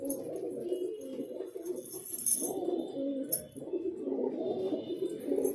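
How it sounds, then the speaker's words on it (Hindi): Highflyer pigeons in a loft coo in repeated low, throaty phrases, close and moderately loud, with a few faint clinks and rustles in the background. "और तिरदुमा कबूतर है"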